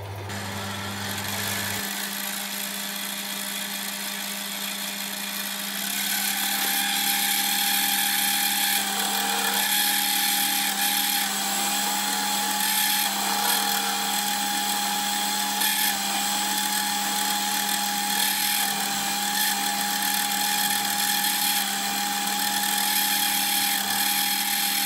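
Boring out a bushing hole on a Gingery milling machine's compound slide, the cutter runs with a steady mechanical whir and a high cutting whine that swells slightly after a few seconds and holds continuously.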